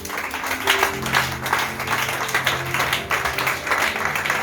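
A church congregation claps and cheers together in sustained, dense applause, with a low hum and murmuring voices underneath throughout.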